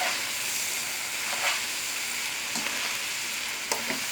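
Chicken chow mein stir-fried in a pan, a steady close sizzle and hiss with a few scraping stirs of the utensil against the pan, no talking.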